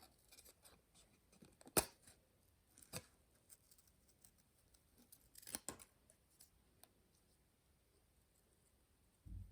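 Scissors snip through paper card while a handmade Valentine card is assembled, a few sharp isolated cuts heard close and quiet against near silence, with small handling rustles between them.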